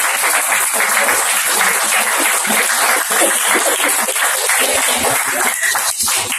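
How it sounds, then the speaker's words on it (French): Sustained audience applause fills a New Year's reception hall, a dense, steady wash of many hands clapping at full volume throughout, with no pauses or talk breaking through. "Je propose d'ailleurs de les applaudir bien."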